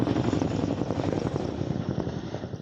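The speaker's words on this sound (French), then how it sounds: "Il y a les avions, les hélicoptères, les avions citernes qui tentent de déverser un maximum d'eau. On en entend un justement qui est en train de passer autour de nous." A firefighting aircraft passes overhead during the Los Angeles wildfires, its loud, continuous engine and rotor roar rumbling steadily and slightly fading toward the end, with no voices.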